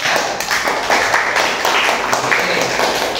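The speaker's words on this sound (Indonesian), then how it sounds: "tepuk tangan untuk kelompok" A classroom applauds group 3 after their presentation, steady close clapping from many hands that carries on throughout.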